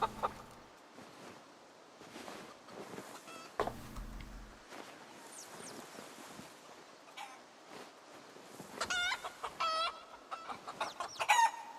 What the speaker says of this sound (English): That rooster still sounds very pissed off.